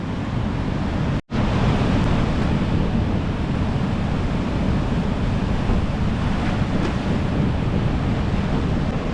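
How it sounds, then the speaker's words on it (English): The Dumoine River in flood, rushing through rapids as a loud continuous broadband roar of churning water, steady and close throughout with no voices. "Right now the river's in flood"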